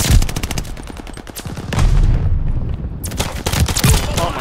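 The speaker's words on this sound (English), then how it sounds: "Oh my god, he killed me with a pistol." Gunfire from the video game Call of Duty: Vanguard in a Control match, with rapid loud bursts of shots. A quieter gap falls in the middle, then the shooting resumes.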